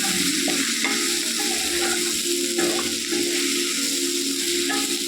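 Okra curry with chili powder sizzles steadily in a pan while a spoon stirs and scrapes through it in repeated strokes, a close, continuous frying sound with no voices.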